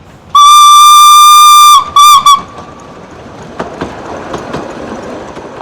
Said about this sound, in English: this is the Llanberis Lake Railway, a narrow gauge train which goes around the lake.